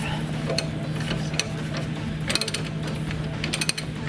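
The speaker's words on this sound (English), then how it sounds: "Probably didn't need such a big socket ratchet." A socket ratchet works a 1 1/8-inch nut during a lift kit install on a 2007 Ford Ranger, giving scattered bursts of close mechanical clicking over a steady low hum.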